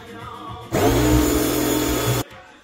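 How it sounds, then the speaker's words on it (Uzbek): An air compressor runs during a plumbing pressure test, a loud steady motor hum that starts abruptly, drones for about a second and a half, then cuts off. "Hozir kompressorimizni o'ziga havoni damlab oldik."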